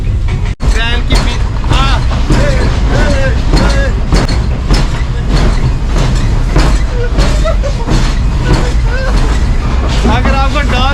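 An old African train rattles along the tracks, its steady low rumble and clatter continuous and loud, with a voice talking over it throughout.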